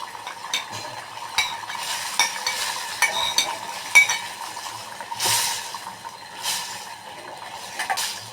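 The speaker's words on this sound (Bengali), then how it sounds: "রোস্টেড চিকেনগুলো আমি এর মধ্যে একটা একটা করে দিয়ে দিলাম" Roasted chicken pieces go one by one into a pan of simmering Bengali chicken curry, giving a run of soft clinks, stirring scrapes and a steady bubbling sizzle, close up with no talk.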